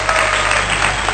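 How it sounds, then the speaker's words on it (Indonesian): Brief burst of audience applause after a talk, a dense wash of claps filling the whole moment at steady loudness with no voices over it. "Tepuk tangan."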